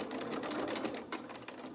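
A sewing machine stitching fabric for small doll-sized dungarees, a fast close mechanical whirr with a rapid stitch rhythm throughout, heard alone.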